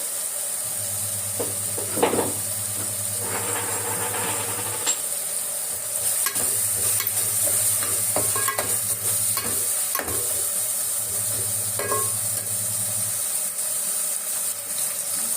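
Ground spice paste for fish biryani sizzles and crackles steadily in a hot pan, with occasional scraping stirs and a low hum running beneath.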